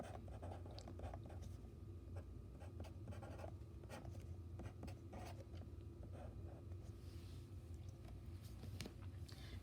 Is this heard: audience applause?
no